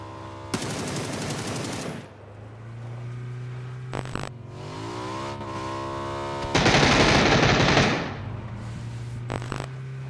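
Bursts of automatic gunfire are fired from a moving vehicle's window in PUBG, loud rapid volleys interrupted by a car engine droning and revving between them, with no talk.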